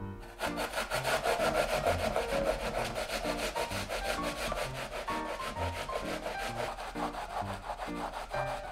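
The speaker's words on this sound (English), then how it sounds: "Peel the skin and grate half the onion." Half an onion grated by hand for a gyudon beef bowl, a steady, rhythmic rasping scrape of repeated strokes close up at moderate level, with no talking.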